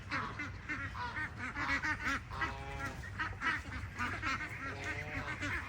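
Indian Runner ducks on a farm quack in a steady, overlapping chorus, with several birds calling close by and loudly, without pause, and no talking.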